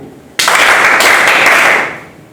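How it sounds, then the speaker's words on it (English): A class of students bursts into a loud round of clapping together, sustained for a couple of seconds before fading, with no talking over it. "clap to all"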